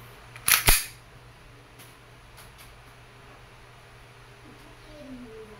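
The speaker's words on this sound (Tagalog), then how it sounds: "Testing ENC Glock 19X Airsoft Pistol. Gas blowback Airsoft Pistol." Two sharp close shots from an E&C Glock 19X gas blowback airsoft pistol crack out in quick succession near the start, followed by a quiet room with faint noise.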